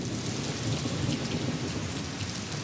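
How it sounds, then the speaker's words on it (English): Heavy Sri Lankan monsoon rain pours down in a dense, even roar, with a low rumble of thunder underneath throughout. "The Sri Lankan monsoon lasts around a month and brings heavy rain and thunderstorms across the island."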